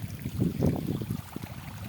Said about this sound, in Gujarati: આ ખેતરમાંથી પાણી આવે છે